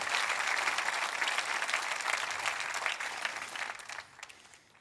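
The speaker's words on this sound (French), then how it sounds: "Est-ce que vous pouvez applaudir avec moi la grâce de Dieu?" A church congregation claps together in steady, dense applause that fills the space, holding strong before thinning and fading out toward the end.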